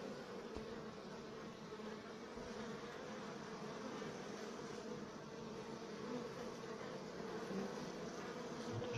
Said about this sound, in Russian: Тоже многие-многие пчелки прилетают с пергой.